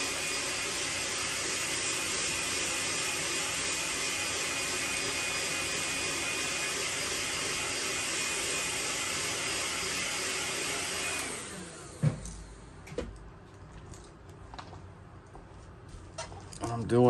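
A heat gun blows steadily for about eleven seconds while heat-setting paint on the top of a lipless crankbait lure painted in a rock craw pattern, then cuts off, leaving faint knocks and handling noises.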